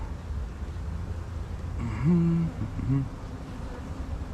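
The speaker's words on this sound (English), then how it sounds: "this is obviously full of bees right now" Honey bees buzz in a hive, with one bee's wavering drone rising briefly over a low, steady background hum.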